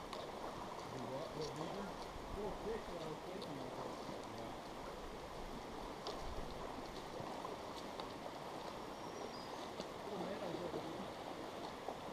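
Creek water rushes steadily at a crossing on a backpacking trail, a continuous broadband wash filling the whole clip, close and even in level, with no voices heard.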